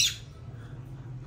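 Pet parrots give a single short, shrill squawk right at the start, which then fades into a quiet background hum.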